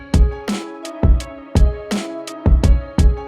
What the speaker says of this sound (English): I've just layered it with this second kick now.